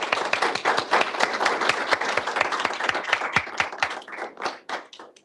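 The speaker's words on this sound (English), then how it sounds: "So I think we should give them a round of applause as well." An audience at a transport innovation panel event gives a lively round of applause, many hands clapping close and dense before thinning into scattered claps that fade out.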